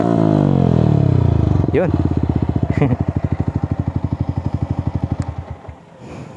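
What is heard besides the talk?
Yamaha XSR 155 motorcycle engine with aftermarket muffler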